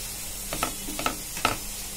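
Carrot halwa with sugar is stirred in a pan, three soft scraping strokes of a spoon against the metal over a quiet, low sizzle, close and gentle.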